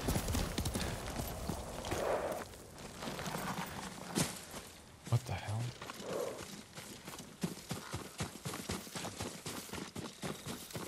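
A sick horse's hooves clip-clop in the video game Ghost of Tsushima, steady close walking beats over ambient game sound, with a brief whinny-like sound partway through.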